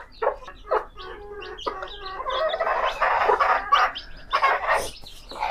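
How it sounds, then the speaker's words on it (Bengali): Adult hens and their young chicks cluck and chirp in a steady, busy chatter on a farm, with a few louder sharp clucks rising over the flock and no one talking. "আর এই যে আমার কিছু বড় মুরগি আছে, এই মুরগির বাচ্চাই হয়েছে"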